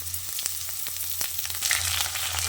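Potato and papaya frying in a pan with crushed ginger and slit green chillies, a steady close sizzle broken by light crackles and stirring scrapes, with no talking.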